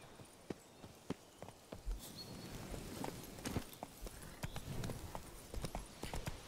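Horse hooves clip-clop in an irregular walking rhythm, fairly faint, with soft ambient noise around them, in the video game The Witcher 3: Blood and Wine.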